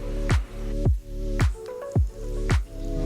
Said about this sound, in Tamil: இட்லி ஊற்றி காட்டுறேன்